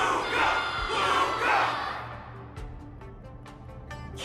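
A large crowd roars and cheers at an arena wardance battle in Honkai: Star Rail, swelling loudly then fading into scattered distant shouts and a few sharp hits.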